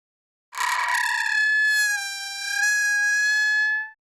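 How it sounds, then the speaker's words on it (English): An old cellar door's hinge squeaks as it swings: a rough scrape opens into a sustained, piercing, whistle-like tone that wavers slightly in pitch for about three seconds, loud and close, with no voices. "And I found this really cool cellar door that had this squeaky character,"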